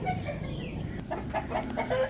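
Rooster and hens clucking together in a poultry yard, a dense run of short clucks and calls close by with no voices.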